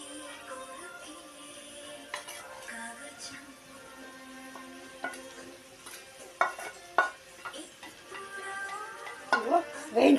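Okra tossed into a hot kadai and stirred, soft sizzling broken by a few sharp utensil clanks and scrapes that grow louder toward the end, with a voice talking over it.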